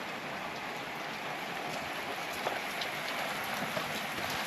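Torrential rain downpour pouring steadily over an outdoor renovation site where a concrete slab is being prepared, a dense continuous hiss with scattered louder drops, no voices.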